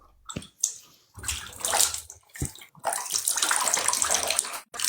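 Water splashes and pours across a floor in several loud bursts, with a steady continuous wash through the latter half and short pauses between the first pours.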